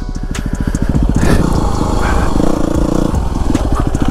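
A Yamaha WR250R dirt bike engine revs loud and close, its rapid pulsing exhaust rising and falling during wheelie practice on an off-road riding area, with no talk over it.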